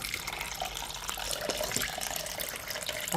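Water pours steadily over a live crab, a continuous close splashing rush like running tap water, fairly loud throughout with no talking.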